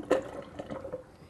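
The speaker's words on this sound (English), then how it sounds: "My seeds are done brining, so I'm going to carefully take these back over to my colander. Carefully pouring," Brined pumpkin seeds and liquid poured from a pot into a colander, a short wet splash and patter that fades into soft drips, close and quiet with no voices.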